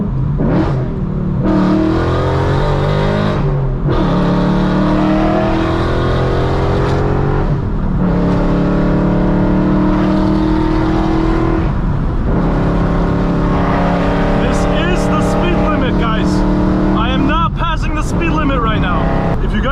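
A loud, raspy straight-piped BMW E92 M3 engine revs and downshifts repeatedly at night, with crackling pops between throttle blips, under someone talking excitedly throughout.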